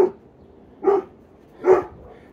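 A neighbour's dog barks three times, loud and fairly close, with short sharp barks spaced under a second apart against a quiet background.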